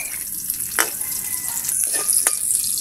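Chopped onions hit a pan of golden-brown garlic and fry with a bright, steady hiss, joined by a few clinks and scrapes of a utensil while the sizzle runs close and fairly loud throughout.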